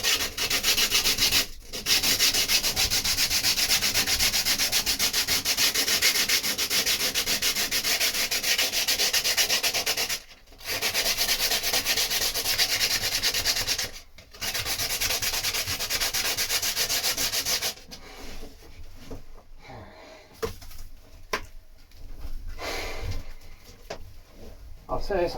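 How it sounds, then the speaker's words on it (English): Hand sanding of wood inside a cupboard, a continuous close scratchy rasp with a few short pauses, the strokes becoming choppier toward the end. "we don't want half hour of me sanding"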